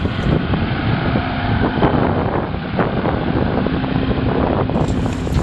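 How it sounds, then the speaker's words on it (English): A Lear 5 horsepower outboard motor runs steadily and loudly, with a rattly, buzzing tone and some wind rumble over the microphone. "Noise wise, it's quite noisy. It's not the best sounding engine, it's a bit rattly."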